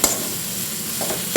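Lote fish jhuri sizzles steadily in a pan as it is stirred, with a soft scraping sound at the start and again near the end, close and moderately loud with no talking.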